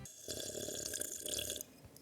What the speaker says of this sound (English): I had to take a sip for y'all